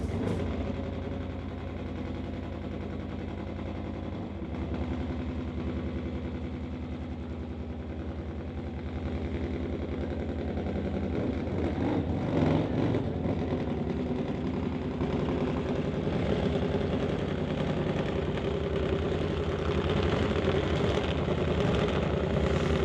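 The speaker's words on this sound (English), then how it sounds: "drag bike" Drag bikes idle at the start line of a Summit ET and bike drag race, a steady rumbling engine drone throughout with slight surges and vibration, no talking.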